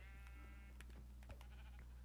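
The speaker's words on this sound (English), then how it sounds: "Alright, that is a lot of sheep." Sheep bleating in Minecraft on Xbox 360 Edition, several short calls scattered over a steady low hum, with no talk.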